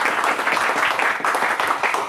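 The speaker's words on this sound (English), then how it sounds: "they also get a motivational applause" An audience at a hackathon award ceremony in Berlin gives a close, loud round of applause, with dense overlapping claps carrying on without a break.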